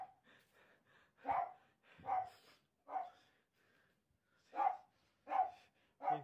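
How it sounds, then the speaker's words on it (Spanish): A dog barks in a series of sharp, evenly spaced barks, about six in all, with a short pause midway, fairly faint and unaccompanied. "deja de ladrar"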